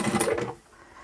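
A sewing machine stitches a bag pocket in a brief, close, whirring burst that stops after half a second, leaving quiet room tone.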